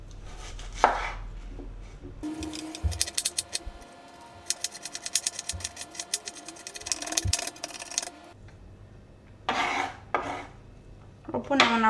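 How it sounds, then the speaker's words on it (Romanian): Onion finely chopped with a knife on a board, rapid close tapping in long quick runs, broken by a few louder clatters, and no talk. "Începem prin a toca ceapa fin."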